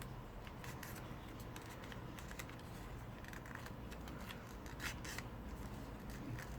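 Soft, close paper creasing and rustling as a sheet is folded for an origami pterosaur, a run of brisk scraping strokes and crisp crinkles at low volume.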